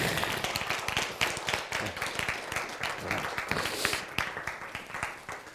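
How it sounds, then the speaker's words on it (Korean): Audience applause at a Korean church Bible lecture on science and scripture, a steady crackle of many hands clapping together, moderately loud and continuous throughout with no talk over it. "박수!"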